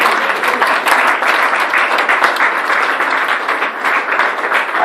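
A congregation at an evangelism service in Brussels applauds, dense loud clapping from many hands, steady and close throughout.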